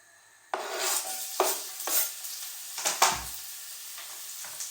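Onion frying in a wok at home, a steady sizzle starting abruptly and running throughout, with several sharp scrapes and clatters of a utensil stirring against the pan, close and fairly loud.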